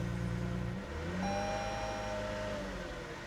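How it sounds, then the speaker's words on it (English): A small Toyota Tacoma pickup truck engine turns over and runs close by, then climbs in pitch as it is revved, steady and fairly loud with no one talking. "It's not a real aggressive engine. It doesn't really sound like a race car."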